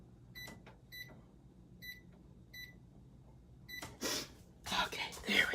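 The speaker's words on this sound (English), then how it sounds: "Let me set my microwave here for 25 minutes." A microwave oven's keypad is pressed, giving four short, clear electronic beeps spaced about half a second apart, followed by whispery voices and rustling handling noise.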